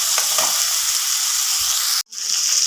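Onions and capsicum sizzle steadily in a hot pan while chicken is being cooked, a continuous bright frying hiss broken by a brief stir-like gap near the end, with no talking.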